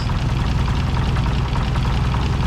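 An Oliver 880 tractor engine idling steadily nearby with its carburetor just refitted and no choke, a loud, even low rumble with a faint knocking pulse and no voices.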